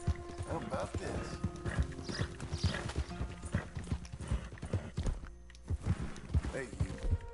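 Horse hooves clip-clop steadily in the video game Red Dead Redemption 2, a continuous walking rhythm of close, dull thuds with occasional pauses and a faint whinny.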